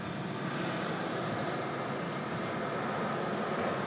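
Boeing 787-9 Dreamliner taking off from Manchester for Doha, a loud, dense broadband jet roar filling the whole moment with no talk.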